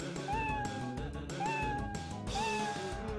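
Cats meow in the video game Feel the Magic XY XX, with about three clear, rising meows at a steady rhythm over the game's busy backing sounds.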